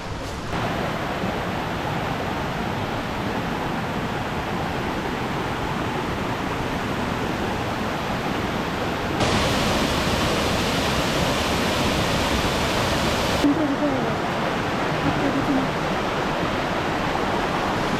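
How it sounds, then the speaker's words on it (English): Constant rushing water from a small waterfall on Cape Breton's Cabot Trail roars in a dense, unbroken wash, growing a little louder partway through, with no voices over it. "That was a nice waterfall."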